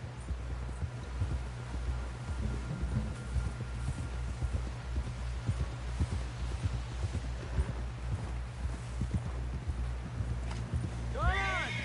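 Horse hooves clip-clopping at a steady trotting rhythm in Red Dead Redemption 2, close and continuous over a low ambient hum, with a short neigh near the end.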